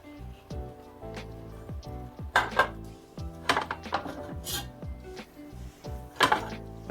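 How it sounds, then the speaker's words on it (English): Beef neckbones being stirred into bone sucking sauce in a pot, with scraping, knocking utensil strokes against the metal in irregular bursts, fairly close and moderately loud. "And you just put the meat and just mix it up with the sauce"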